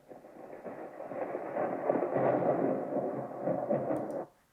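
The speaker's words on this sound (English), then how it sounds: "We need some lightning, thunder." A low, sustained rumble of thunder rolls for several seconds, swelling in the middle before cutting off abruptly.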